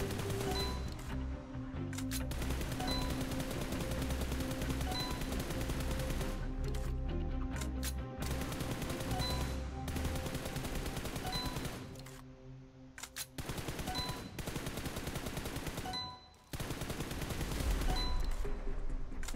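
Rapid automatic gunfire from a prone position in the PUBG Mobile video game, with dense, loud bursts that run almost continuously, broken by a few brief pauses between sprays.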